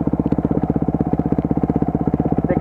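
Enduro motorcycle engine running in the rain, a close, loud, rapid and steady throbbing chug that pulses evenly throughout, with no voices.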